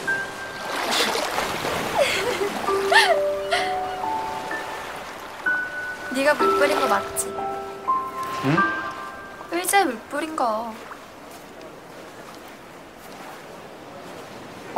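Surf rolls and washes steadily onto the beach at Ipanema, a continuous broad rush that swells and eases, with people talking and laughing close by in the water.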